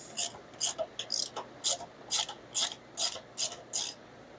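A T40 Torx bit on a ratchet loosens a door bracket on a Polaris Ranger, giving about ten quick, close ratcheting clicks in a steady rhythm over a quiet background.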